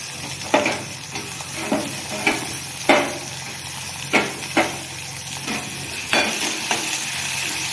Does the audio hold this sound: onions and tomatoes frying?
yes